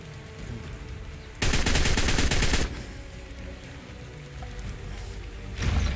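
Rapid automatic gunfire in the video game Ark: Survival Evolved, a loud sustained burst of about a second alone, with a second burst starting at the end over a steady background hum.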